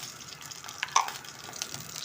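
Whole cardamom pods, a cinnamon stick and five cloves sizzle softly in a hot karahi, a faint steady crackle with a few brief pops and no talk.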